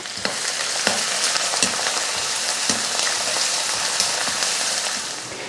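Chopped large onions dropped into hot oil with cardamom, cloves and bay leaves, frying with a steady, loud, dense sizzle and faint stirring taps throughout; no voices.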